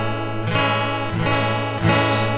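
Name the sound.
guitar with chorus effect from cheap multi-effects pedal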